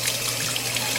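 Water runs and trickles steadily over a six-week-old Aussiedoodle puppy, wetting it before shampoo, a close, continuous splashing wash with no voices.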